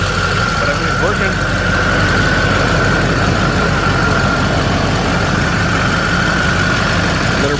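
A vehicle engine idles steadily as it warms up, after a water pump repair to fix overheating, a continuous even rumble with a faint whine running through it, close and fairly loud throughout.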